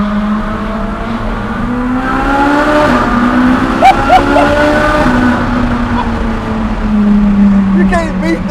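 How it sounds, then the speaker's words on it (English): A Ferrari 458 Speciale V8 held in second gear near 5,000 rpm through the Washburn Tunnel in Houston, a loud close engine drone that rises and swells, echoing off the walls, with people talking over it. "we can't be in a Ferrari, especially the last NAV8 Ferrari, and not go through a tunnel."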